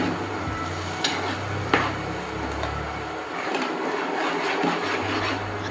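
Tomato puree being stirred into pav bhaji in a pan, a steady sizzle and scraping of a spoon through the thick mixture with a couple of sharp taps, over a constant low hum.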